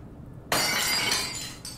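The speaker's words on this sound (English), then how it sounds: "Anyway, enough fun with smashing things." A glass object smashes in the video game Soma: one sudden, loud shatter followed by a bright spray of tinkling shards that fades over about a second, with a small second crack near the end.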